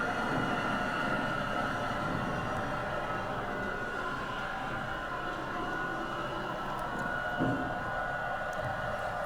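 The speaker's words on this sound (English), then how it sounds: "This is an air seeder." A loud, continuous roar of an air seeder, a steady blowing whine over a rumbling engine, with no pauses throughout.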